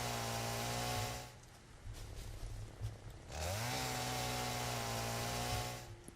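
Chainsaw in the video game Satisfactory, a loud, steady engine whine that drops out briefly mid-cut and then revs back up to a sustained buzz.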